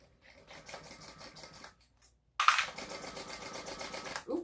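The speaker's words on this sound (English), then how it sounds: "I'm just going to run over that seam twice" Sewing machine runs a seam twice on a crossbody bag, two bursts of steady rapid stitching separated by a brief pause, the second louder and closer.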